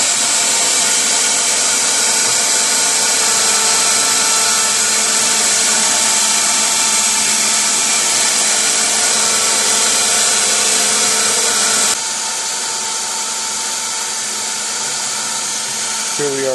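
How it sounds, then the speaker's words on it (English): A continuous high-pitched machine whine and hum of a small CNC machine drilling through-holes in a printed circuit board, running steadily, dropping slightly in level near the end. "And it should drill right into the dimple."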